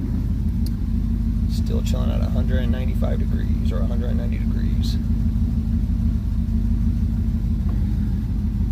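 A 1977 Chevrolet Nova engine with a blown head gasket idles at a steady, continuous low rumble, with someone talking over it for the first several seconds.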